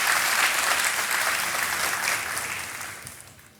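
Studio audience applause on a television quiz show in India, a dense steady burst of many clapping hands that stays loud for about two seconds and then tapers off toward the end.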